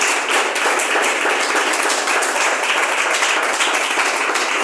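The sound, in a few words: congregation applauding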